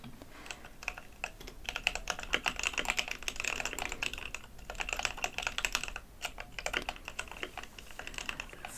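Steady computer keyboard typing during a coding session, dense bursts of close, soft key clicks running continuously with brief pauses, no voice.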